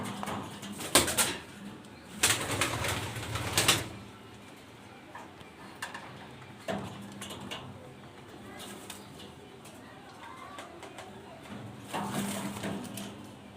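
Danish Maltese pigeons coo softly at a pigeon exhibition, faint low calls under background noise, with a few sharp bursts of clatter or wing flaps early on.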